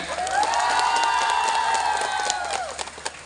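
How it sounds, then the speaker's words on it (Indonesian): An audience at a launch event cheers and applauds for a company director, a sustained rising and falling crowd shout over scattered clapping, loud and full before tapering off near the end. "Tepuk tangan dong buat Pak Dirutnya."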